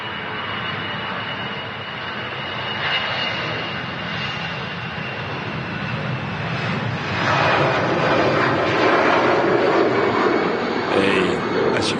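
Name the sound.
jet airliner taking off from runway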